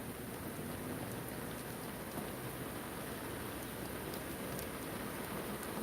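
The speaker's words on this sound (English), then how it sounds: "why did I roll my window down and it starts raining?" Rain falls steadily outside a car with the window rolled down, a dense, even patter that holds at one level throughout, with no voices.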